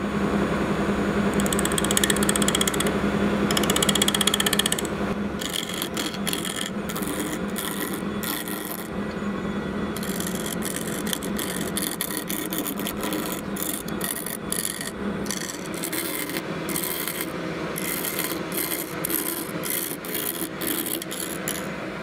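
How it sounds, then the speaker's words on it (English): A wood and resin sphere spins on a lathe while a chisel cuts it down; steady scraping and rasping with a hum, the first few seconds louder and denser before settling into a continuous rough cutting texture. "taking our chisel and turning this down"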